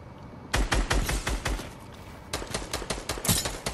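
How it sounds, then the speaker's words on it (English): Rapid bursts of gunfire from the video game Fortnite in an arena match, with dense close shots in two volleys separated by a short pause, heard alone. "Oh, he shot."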